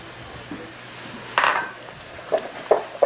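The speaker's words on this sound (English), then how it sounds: "You can see when I drag the whisk over the top of the batter" A whisk tapping and scraping against a bowl of tempura batter, a few light clinks and a short scrape, close and fairly quiet.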